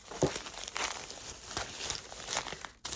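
Crinkly plastic packets of embroidery beads rustling in uneven bursts, close by, with a few sharper crackles as torn packets are handled and pulled apart.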